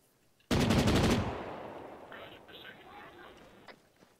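A rapid automatic burst of gunfire in the video game Arma 3, loud and fast for under a second, then a reverberating tail with faint distant shots and radio-like chatter in the background.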